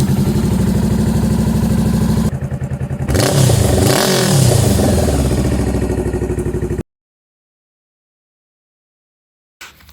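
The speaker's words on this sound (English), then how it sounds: "let your engine idle for 3 to 5 minutes and let the oil warm" A Honda CBR500R motorcycle engine idles with a steady throb, briefly revving in the middle, then cuts to silence before a short burst returns.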